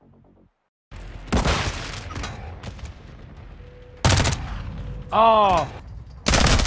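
Bursts of gunfire in Modern Warfare 2 multiplayer: several loud broadband volleys, close and punchy, separated by short gaps. A brief exclamation and some background game sound sit between the shots.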